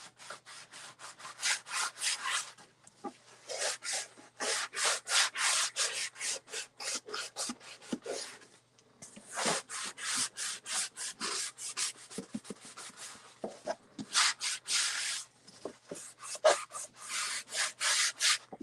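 Rhythmic back-and-forth rasping of hand-sanding wooden edges with sandpaper, close and steady strokes in long runs with short pauses between them.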